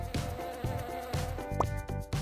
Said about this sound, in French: Cette abeille va venir avec nous.